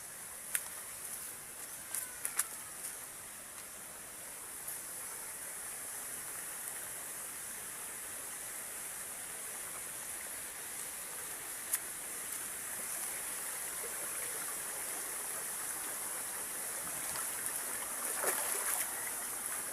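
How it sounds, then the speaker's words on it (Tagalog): A river at a waterfall rushes in a steady, broadband roar that stays constant throughout, with occasional faint clicks and knocks nearby. "Ito po ang ilog na paliliguan namin."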